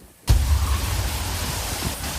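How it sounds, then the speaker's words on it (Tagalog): A sudden roar of storm wind and heavy rain starts abruptly, then continues as a dense, steady rushing wash. "Nakunan pa nga ng video ang maladilubyong bugso ng hangin na sinabayan pa ng walang patid na ulan"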